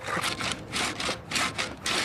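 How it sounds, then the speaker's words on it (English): Sand fed under a copper tube grinds through stone by hand, a harsh rasping scrape repeating in about five even back-and-forth strokes, close and loud. "the sand is now steadily and slowly but surely cutting its way right through the stone"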